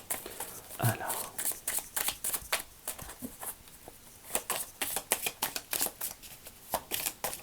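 Oracle of the Elves cards are shuffled by hand for a reading, with rapid papery riffles and flicks in quick bursts, close and fairly soft, with a brief pause midway.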